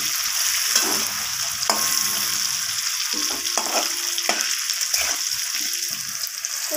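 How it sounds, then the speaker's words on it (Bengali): Cubed potatoes and papaya seasoned with turmeric and salt fry in hot oil, a steady close sizzle broken by several scraping stirs of the spoon, with one brief spoken word. "আলু আর পেঁপেটাকে আমি নাড়াচাড়া করে ভালোভাবে লাল লাল করে ভেজে নেব"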